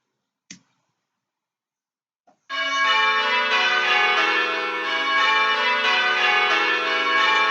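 A church bell struck during a bell-ringing call rings out loud and sustained. A faint tap and a small click come first, then the bell's bright, rich tone fills the rest of the clip without fading.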